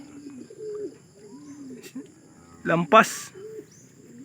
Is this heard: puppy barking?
no